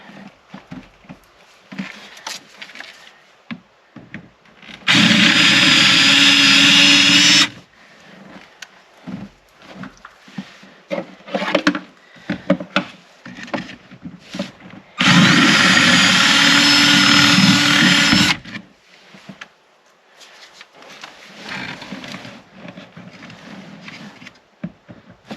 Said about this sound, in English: we drill out the factory rivets